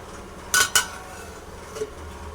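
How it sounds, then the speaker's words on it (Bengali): A metal lid is set on a cooking pot of potato and pointed gourd curry with mung dal, giving two quick bright metallic clanks close by, followed by a faint softer tap. "এবার একটা ঢাকনা দিয়ে ঢেকে দেব"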